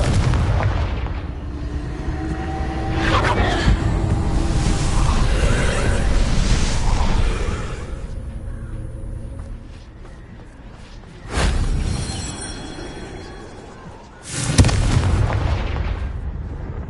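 Repeated fire-blasting spell explosions in the fantasy game Hogwarts Legacy, heavy booming bursts around the start and again near the end, with rumbling decay between them and no talking.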